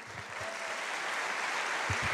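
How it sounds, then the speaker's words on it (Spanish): Church congregation at a united home-group service applauding, a dense, even wash of many hands clapping at a distance, fairly soft and continuous. "a quien le damos una gloria con un fuerte aplauso"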